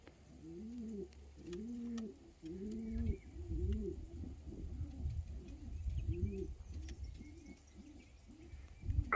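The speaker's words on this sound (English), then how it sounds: "You're a good looking little pigeon." Pigeons coo in a loft, their soft, low, rhythmic rolling calls repeating steadily and close by, with faint background chirps.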